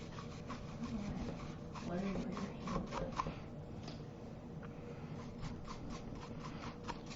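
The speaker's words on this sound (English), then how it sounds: "So I'm just brushing." Paintbrush dragged steadily across ceramic bisque while glazing a cardinal figure, a soft continuous rubbing and scratching with gentle repeated strokes, close and quiet, no voices.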